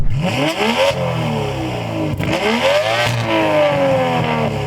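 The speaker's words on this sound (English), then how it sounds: "How are they making a turbo sound like this?" An Aston Martin V12 turbo car engine revs hard in repeated rising sweeps, three or four close, loud bursts that climb and drop back, with no talk over it.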